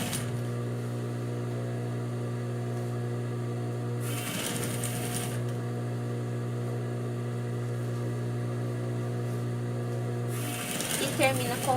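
A sewing machine stitches the seam of a half-moon fabric pouch with a steady, close hum and rapid chatter. Brief louder bursts of handling or backstitching break in twice.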